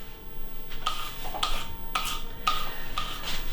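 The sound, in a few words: grating carrots with a Tupperware Adaptachef grater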